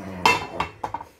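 A cooking pot handled while horse meat is being cooked, giving a sharp metallic clank followed by several lighter clinks and knocks of cookware, close and fairly loud.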